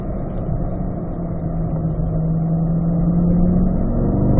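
Chevrolet C8 Corvette engine on a track, droning steadily and rising slightly in pitch as it downshifts into fourth gear approaching a turn, loud and close with no talk.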